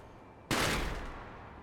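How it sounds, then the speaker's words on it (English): Firecracker mines go off in the video game Sekiro: one sudden loud burst of crackling explosions after a quiet moment, fading into a dense rumbling tail. "Little noise mines. Firecracker mines."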